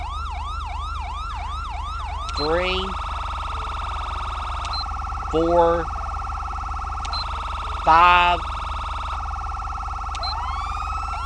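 Police sirens from the GTA V LSPDFR mod cycle through several loud patterns: a sweeping wail, then short yelps and rapid warbles, with a voice briefly counting numbers over them.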